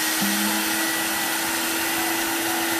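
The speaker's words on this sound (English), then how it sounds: "We're gonna vacuum this bad boy out." Vacuum cleaner cleaning out a very dirty car interior, a loud steady whining roar with a constant motor tone running the whole time, close to the microphone and with no talking.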